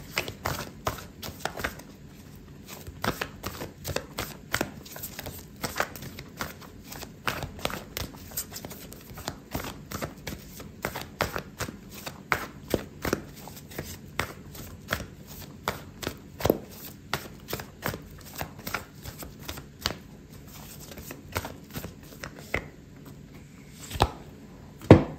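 Oracle cards are shuffled by hand for a tarot reading, giving a long run of close, crisp riffling taps and flicks in uneven bursts, ending with a sharper knock.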